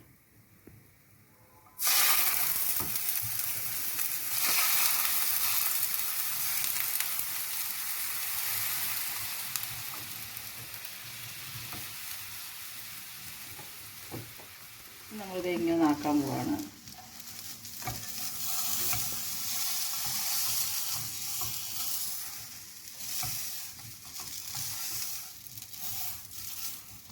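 Butter and milk sizzle in a hot pan for a Madurai butter bun, a loud continuous hiss lasting throughout, with brief spattering and stirring scrapes midway while someone speaks.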